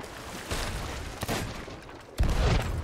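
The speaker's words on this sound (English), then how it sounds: "They're shooting again." Rapid volleys of muffled gunfire and cannon booms crackle over a constant noisy backdrop in the video game Sea of Thieves, with a heavier burst near the end.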